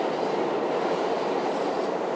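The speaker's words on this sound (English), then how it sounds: "I've never been on a train by myself in New York City." A New York City subway train rolling on its rails fills the clip with a loud, continuous rumble and rattle of wheels and carriage, close and steady, with no voices.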